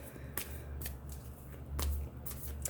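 A tarot card is flipped over on a table, giving soft papery swishes and light snaps several times in quick, uneven succession, close and quiet.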